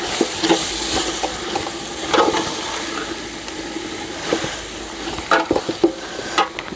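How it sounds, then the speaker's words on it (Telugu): Green chilli masala fries for chicken biryani while being stirred, a loud close sizzle with wet, splashy mixing strokes and occasional scrapes. "ఇది ఫ్రై కోసం వేసి అయితే బాగా కలుపుకుందాం"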